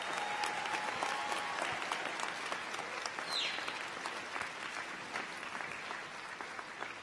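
Crowd at a community college commencement ceremony claps steadily and loudly for graduates' families and friends, sustained applause with no voices over it.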